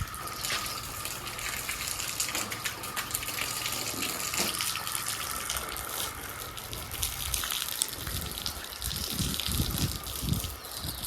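Water running steadily while plants are watered outdoors, a continuous rushing, splashing stream close by and fairly loud, with faint background noise and no talk.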